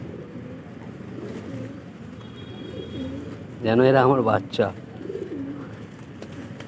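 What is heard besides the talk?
Shirazi pigeons cooing while feeding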